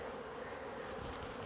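Homeless honeybees shaken out in front of a hive make a soft, continuous buzz in a brief, faint burst.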